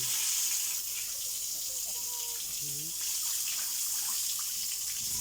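Water splashes and runs steadily while a pig is bathed on a farm, a continuous wet wash with faint animal grunts and squeals, and a person speaks now and then over it.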